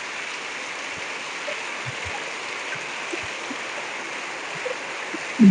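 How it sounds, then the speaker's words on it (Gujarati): A steady, even wash of torrential rain in a windstorm hisses continuously, with a few faint low knocks scattered underneath. No voices are heard. "વરસાદ બહુ આવે છે ધોધમાર વરસાદ પડે"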